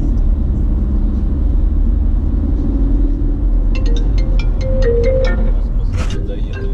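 A car drives one-way through the center of Sochi, its low road rumble and engine drone steady and close throughout, with faint clicks and a person talking over it.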